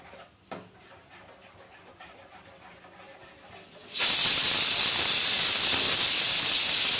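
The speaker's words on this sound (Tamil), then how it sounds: "விசில் வருது, கொஞ்சம் விசில் வந்துட்டோம், ஒரு நாலு விசில் வந்துட்டோம்." A pressure cooker on the stove cooking pav bhaji stays quiet for a few seconds with faint kitchen noise, then bursts into a loud, sustained hissing whistle that carries on to the end.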